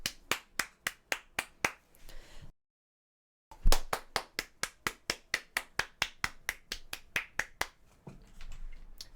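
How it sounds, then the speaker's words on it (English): A crowd claps along in a burst of sharp, evenly spaced applause that stops for about a second, then resumes louder and steadier, ending in a looser smattering at a year-end PowerPoint presentation night. "Can we get a round of applause?"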